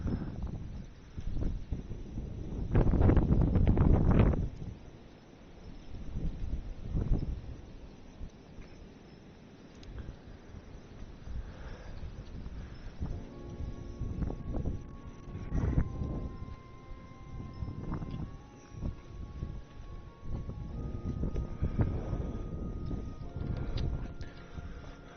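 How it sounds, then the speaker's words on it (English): Strong outdoor wind gusts and rumbles against the microphone, swelling loudly early on and then roaring on unevenly throughout, with no speech. "And it is very windy."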